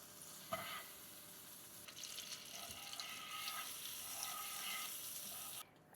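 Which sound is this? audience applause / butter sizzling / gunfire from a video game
butter sizzling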